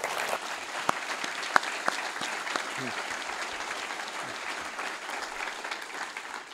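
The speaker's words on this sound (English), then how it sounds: "Please have a round of applause for our panel." A room of attendees at a business breakfast applauds a panel, a sustained, even roar of many hands clapping with a few louder claps popping out early on.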